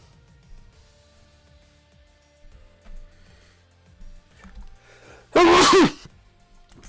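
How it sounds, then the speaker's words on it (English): A single loud, sharp sneeze bursts out near the end after several seconds of quiet background shuffling. "I keep sneezing today."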